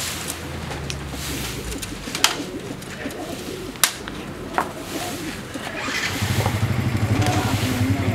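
Caged pigeons or doves coo softly nearby, with low repeated calls that grow more prominent toward the end, and a few sharp clicks and background noise.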